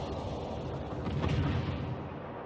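Heavy naval guns of HMS Hood fire in World of Warships as a dense, rolling rumble of overlapping booms that lasts the whole moment at a moderate, fairly distant level.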